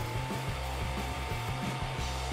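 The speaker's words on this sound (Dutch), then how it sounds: "Ik begin met een föhn." A hair dryer blows steadily with a constant whooshing roar and a faint underlying motor hum, with no talk.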